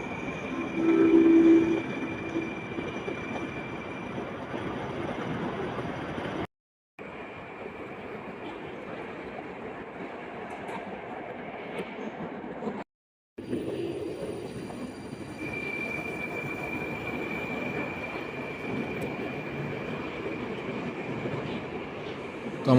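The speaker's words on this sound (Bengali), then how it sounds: "মেট্রো এসে গেছে।" Metro train arriving at a station in Tashkent, a steady rolling rumble with a faint high whine, broken by two brief gaps and continuing throughout at moderate distance without talk.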